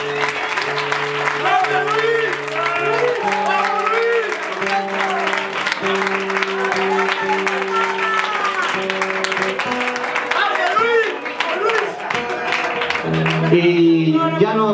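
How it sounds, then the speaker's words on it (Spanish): Applause and cheering from a live concert audience for a cover artist, mixed with sustained musical tones and voices, a lively, continuous wash of clapping throughout. "Un fuerte aplauso para él también."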